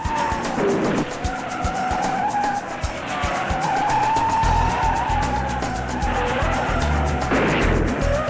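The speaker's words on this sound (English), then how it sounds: "While leading, Mike Mosley slams into the turn 4 wall." During the 1970s Indianapolis 500, Mike Mosley's leading race car skids into the turn 4 wall: sustained tire squeal and engine noise, then heavy low rumbling impact sounds in the latter half, loud and continuous.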